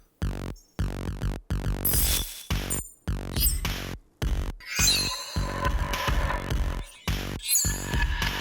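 A run of bright, ringing glassy tones, struck one after another in uneven bursts with short gaps, each a slightly different pitch and texture.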